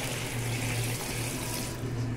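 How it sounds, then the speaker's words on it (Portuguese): Cold water is poured steadily into glass jars while a Cambuci pepper preserve is being made, a loud, continuous splashing flow with no voices. "Agora eu vou colocar água fria aqui dentro."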